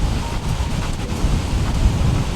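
Strong wind blows across a beach with palm trees on a private island in Nicaragua. It buffets the microphone with loud, continuous gusty roaring, and the surf may be audible beneath it.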